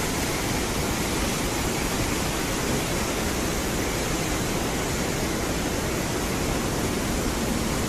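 The Ambika River in flood, its water rushing in a dense, steady roar with no let-up and no other sounds.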